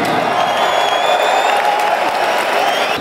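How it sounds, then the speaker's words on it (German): A large audience in an arena at an Oktagon fight event in Oberhausen applauds with dense, loud, continuous clapping and crowd noise throughout. "Bitte einen großen Applaus"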